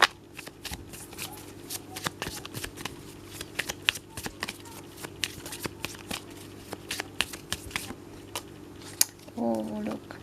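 Tarot cards are shuffled during a reading, giving a rapid, crisp riffle of repeated card flicks and taps close up throughout, with a brief voice near the end.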